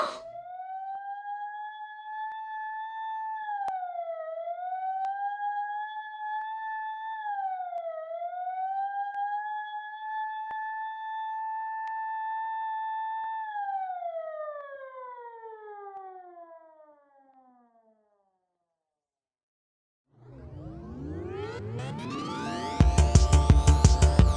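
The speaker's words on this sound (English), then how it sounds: "matched by the rising cascade of Nolastrian police sirens." Police sirens in an audio drama wail in a long rising and dipping tone, loud and alone, then slide downward and fade into silence before a dense, clashing cascade of sirens surges in at the end.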